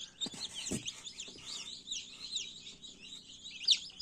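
Newly hatched chicks peep in tiny, high-pitched, continuously repeating chirps, with a few soft low clucks underneath, close and fairly quiet.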